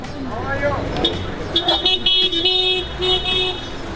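A busy market street in Mumbai near Crawford Market, where car horns toot and sustained honks ring out over engine rumble and traffic noise, close and loud, mixed with voices and the chatter of passers-by.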